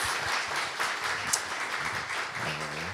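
Congregation applauding in a church during a Wednesday worship gathering, a soft, steady wash of clapping heard from a distance, fairly faint throughout, with a brief voice near the end.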